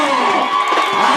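A church congregation cheers and acclaims during an evangelical service, a loud, dense crowd roar with whoops throughout.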